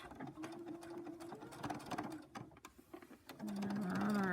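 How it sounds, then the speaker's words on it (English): A sewing machine back stitches a fabric face mask with ties, its needle rattling in quick mechanical bursts with brief pauses, then running faster and louder toward the end. "and I'm going to do my back stitch"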